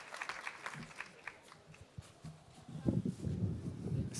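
Audience applause at a youth political ideas event, a steady patter of clapping from a seated crowd that swells toward the end, heard slightly distant in a hall.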